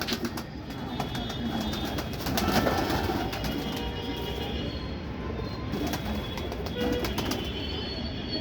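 Pigeons cooing in a loft, a continuous low murmur of overlapping coos with wing flutters and scattered clicks, fairly close and steady throughout.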